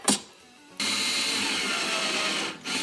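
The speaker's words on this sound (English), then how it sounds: "good grief, that's a dull drill bit." A power drill with a dull bit whirs loudly and steadily as it grinds into a Turbo 400 transmission valve body plate, after a brief sharp knock, with a short dip before the whine resumes.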